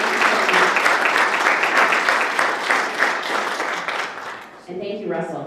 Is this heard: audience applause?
yes